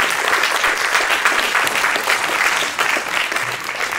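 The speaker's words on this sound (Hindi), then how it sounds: "जोरदार तालियां के लिए।" An audience at a book launch event in Chandigarh claps in steady, loud applause that fills the room. It continues without a break for several seconds and eases off slightly near the end.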